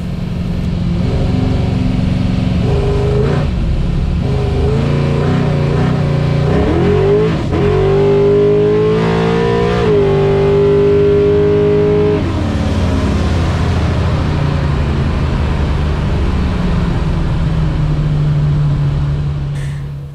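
A 400 cubic inch V8 Chevrolet S10 truck accelerates hard on a rough road, its loud engine rising in a long rev through the gears, then settling to a deep steady drone.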